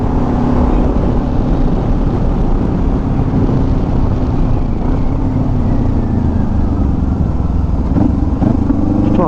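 A motorcycle cruises along a mountain road in the Smoky Mountains, its engine a steady loud drone mixed with heavy wind rush, holding an even pace with no talk.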